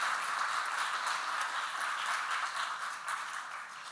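An audience at a city council candidate forum applauds in thanks for a Jewish Community Center, a steady wash of many hands clapping at a moderate distance, continuous and without talk.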